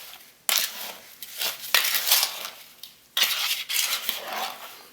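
Flour, sugar and cherries for a cherry pie being stirred together in a bowl, a series of close scraping, clinking strokes of a utensil in a rough, uneven rhythm.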